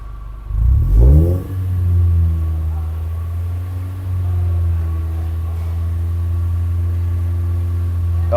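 Mazda Skyactiv 2.5 engine with a performance exhaust blips up in a sharp rev, then settles into a steady, loud low idle rumble measured about half a meter away during a decibel test.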